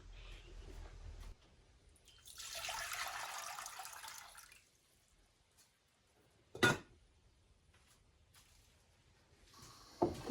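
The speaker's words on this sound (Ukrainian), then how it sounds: "Тепер оцю воду виливаємо" Water splashes and pours out of a pot for a couple of seconds, then a quiet pause broken by a sharp clank of the pot and soft trickling.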